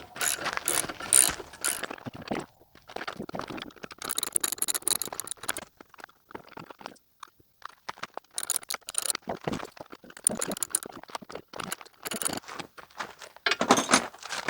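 A wrench tightening bolts on a rear rack fitted to a Yamaha T700 motorcycle, making bursts of quick ratcheting clicks and small metallic rattles separated by short pauses, close by and fairly quiet.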